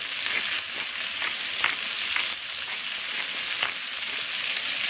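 Brussels sprouts and bacon with freshly ground black pepper fry over medium-high heat in a pan, giving a loud, steady sizzle with a few faint stirring clicks and no talking.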